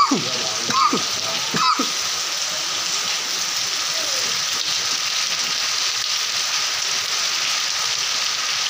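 Heavy rain pours down steadily in Simariya village in Ratlam district, a dense continuous hiss of drops on surfaces, with a few short sharp sounds near the start before the downpour carries on alone.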